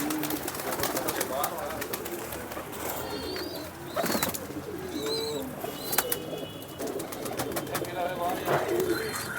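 Pigeons, a pair kept with their young by a longtime pigeon keeper in old Jammu city, coo intermittently under a steady outdoor hubbub, with a few short chirps and a brief burst of wing flapping.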